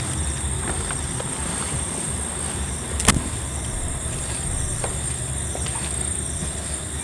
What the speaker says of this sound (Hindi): जैसे कि आपको साउंड आ रही होगी इस गाड़ी की, इससे लगे बिल्कुल रोड है।